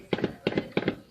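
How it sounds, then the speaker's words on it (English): Rapid bursts of gunfire from an AR-style rifle during a shooting at a Texas mall, caught on surveillance footage: three quick pairs of sharp cracks, muffled and somewhat distant. "Dozens of rounds of gunfire, hundreds of shoppers run for cover."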